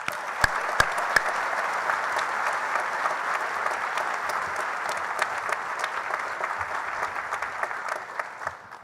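Audience applause at a university commencement ceremony, a steady sustained clapping from a large crowd lasting throughout, with a few sharper individual claps standing out near the start.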